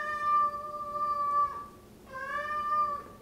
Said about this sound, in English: If you guys heard that, that's my cat Nala,